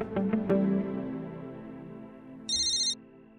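A mobile phone rings with a bright electronic ringtone, a short sustained melodic burst that comes in clearly after a few softer tonal notes, close and steady.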